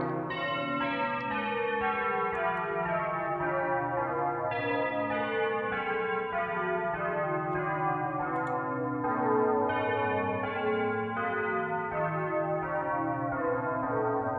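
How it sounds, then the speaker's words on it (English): Bells ring through a music recording, with steady repeated tolls and rich ringing overtones sustained across the whole stretch at an even level. "Even the bells aren't quite right."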